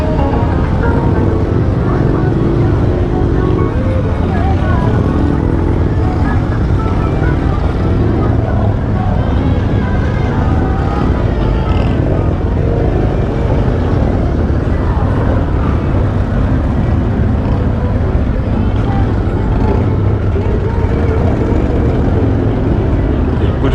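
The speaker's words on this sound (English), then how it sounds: "The bikes are so loud." Loud Harley-Davidson motorcycles ride in a parade at a 2024 NHR rally in Panchkula, their engines forming a dense, continuous roar and rumble that fills the whole stretch, with voices faintly mixed in.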